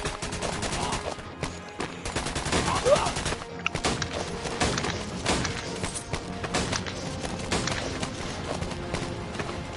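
A Tommy gun fires in a D-Day virtual reality war game, with rapid automatic bursts and scattered shots crackling densely through a busy battle din.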